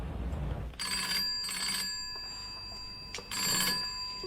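A telephone bell rings in repeated bursts, a classic two-part ring pattern, fairly close with quiet gaps between rings.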